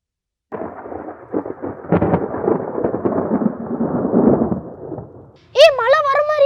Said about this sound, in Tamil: ஏய் மழை வர மாதிரி இருக்கு, வா போயிடலாம்.